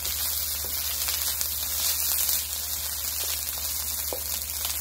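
Rice fries in a pan for ribeye steak beef fried rice, giving a soft, steady sizzle like light rain. A low hum runs beneath it, and a few faint clicks of stirring break through now and then.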